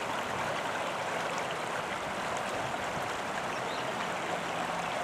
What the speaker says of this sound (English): And the creek itself looks kind of scenic from this point of view.